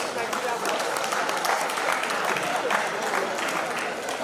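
A crowd at a celebration-of-life memorial gathering breaks into sustained applause, a thick, even wash of clapping hands that holds for several seconds, with voices mixed in underneath.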